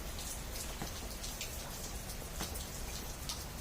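Steady outdoor rainfall patters on rocks, a soft continuous hiss dotted with a few crisp individual drop impacts, no speech.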